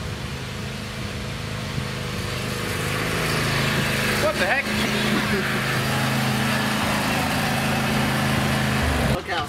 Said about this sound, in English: I can hear it. It sounds like a good tractor.